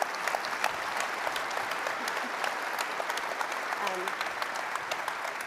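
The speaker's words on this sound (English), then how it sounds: "please a round of applause for all of you" A steady round of applause from a conference audience in a closing session, a fairly quiet, even patter of many hands clapping without pause, heard somewhat from a distance.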